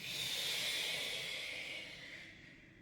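Slow, deep breathing during a qigong exercise: a long airy breath, steady and close, fading softly near the end, with no talking.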